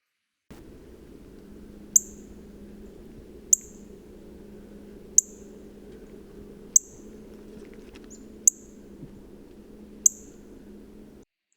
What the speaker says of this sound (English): That is that distinct high-pitched chip that we heard in the background of another bird